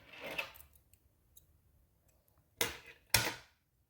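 Two sharp, close snips of scissors cutting a strand of crochet yarn after a small knot is tied in a mini amigurumi doll bag, preceded by a softer rustle of handling in an otherwise quiet room.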